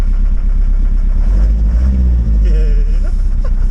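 A Ford Transit MK5 2.5DI recovery truck's diesel engine drones loud and close with a heavy low rumble and brief rising revs, while a person talks over it.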